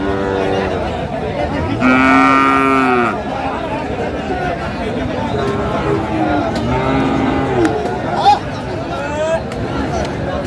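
Cattle, including a bull, moo loudly in long calls, a few times, over a steady murmur of crowd chatter and voices at a cattle market in Manikganj.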